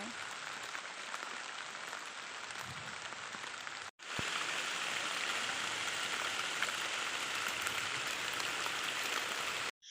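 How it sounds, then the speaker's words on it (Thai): Steady rain pours down in a continuous hiss on a mountain, heard from shelter under a tree, briefly interrupted once before resuming just as heavily, with no voices over it. "ฝนก็ตกนะคะ เราก็ นั่งหลบฝนอยู่ใต้ต้นไม้"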